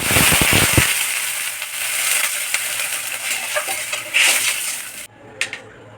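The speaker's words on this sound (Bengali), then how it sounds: "তো এর মধ্যে আমি জল দিয়ে দেব।" Water poured into a hot pan of fried moong dal for gandharaj dal sets off a loud, close, crackling hiss that starts with sharp bursts, churns steadily for about five seconds, then drops away abruptly to a quiet clink.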